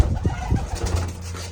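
Soft, low cooing and throaty murmurs from pigeons nearby, a few rolling calls over a steady background hum.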